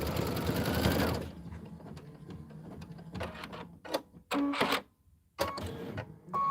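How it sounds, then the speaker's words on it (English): A Kimberbell embroidery machine stitches a sewing project, first in a loud dense burst of rapid needle rattling, then in choppy bursts of mechanical whirring separated by brief pauses. "This is 2 minutes of stitching"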